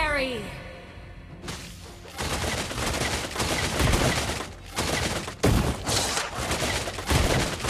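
Beatrix firing her weapons in Mobile Legends, rapid bursts of gunfire crackling over busy game effects, with a voice line at the start and a short spoken imitation of the shots.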